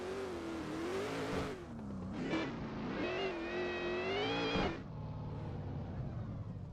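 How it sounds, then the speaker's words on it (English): A drift car spinning donuts in the pits to warm its tires, its engine revving hard and wavering in pitch as the car circles, loud and close, with a brief drop in revs before it pulls again. "Mr. Justin throwing some donettis there in the pits, warming up his tires"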